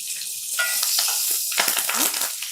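Curry leaves and green chillies crackle and sizzle in hot oil for a pulihora offering, a bright, busy spluttering that rises toward the end.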